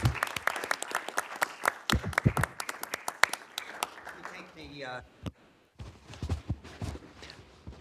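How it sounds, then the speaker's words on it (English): A panel audience gives a brief round of applause for a speaker at a solar energy conversion event, sparse nearby claps, a short pause, then scattered clapping resumes. "Let's give Rich a round of applause."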